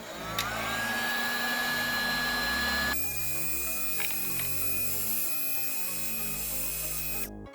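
A heat gun shrinking heat-shrink tubing over a wire end during a car subwoofer install, a steady close blower whine with a constant tonal hum that steps up in pitch partway through, then cuts off at the end.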